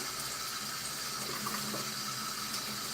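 Continuous running water from a tap rinsing a kitten during a bath, a steady close splashing hiss with no voices.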